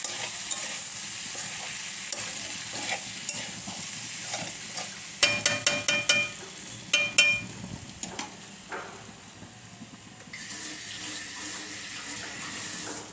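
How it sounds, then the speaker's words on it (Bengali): Potato and tomato pulao frying and being stirred in a little oil, with soft steady sizzling and a run of sharp spoon-against-pan clicks and scrapes near the middle, then a brighter hiss toward the end. "এবার একটুখানি আপনার ভাজা ভাজা হবে"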